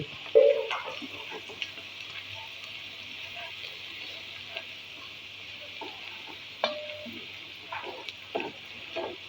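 Butter sizzles softly in a pan while making chicken Alfredo sauce, a steady hiss with occasional light clinks and stirring sounds throughout.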